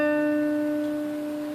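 A guitar rings out a ninth interval from C up to the D above the octave, two sustained notes decaying together in a single clean strum, close, quiet and alone.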